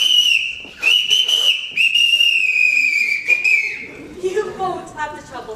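A shrill whistle blown to summon people in a house, a loud sustained tone sounded in several bursts, followed by faint rustling and movement.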